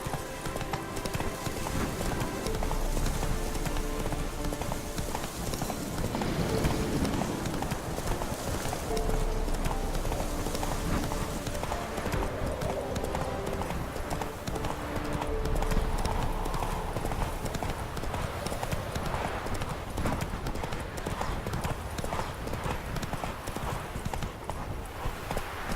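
A horse in the video game Witcher III gallops with rapid, rhythmic hoofbeats, a continuous clip-clop held close and steady for the whole stretch alongside a soft ambient background.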